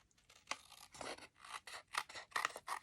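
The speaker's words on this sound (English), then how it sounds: "I'm going to trim this off a little." Scissors trim a card stock overhang on a handmade card in a series of quiet, close, rhythmic snips and rasps, about seven short cuts with no talking.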